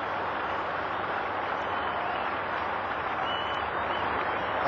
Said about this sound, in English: listen to the crowd, their appreciation of such a great innings